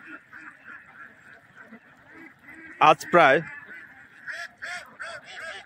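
Loud honking quacks from ducks on a duck farm burst out in a short cluster mid-way, with softer calls continuing and someone speaking over the flock.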